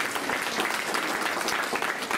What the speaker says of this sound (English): So another big round of applause for them,